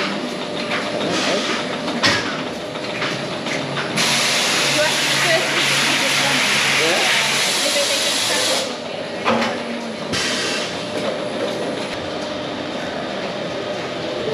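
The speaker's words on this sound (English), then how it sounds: "That basically sucks up all the lids, puts them into the hopper, ready for the torque machine." At the Adey factory, a machine sucks plastic lids into a hopper that feeds a torque machine, giving a loud, steady rushing hiss over a clattering mechanical drone. Someone talks nearby.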